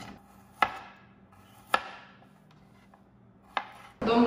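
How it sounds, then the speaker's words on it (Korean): Garlic is trimmed and chopped for a pasta dish, with three sharp, well-spaced knife strikes on a board, close and fairly quiet, ending in a brief clatter. "파스타에 넣을 마늘 다듬어 줄 거고요"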